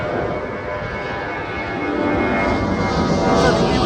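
Loud, steady roar of an airplane engine nearby as it prepares for takeoff, building slightly in intensity toward the end, with faint voices underneath.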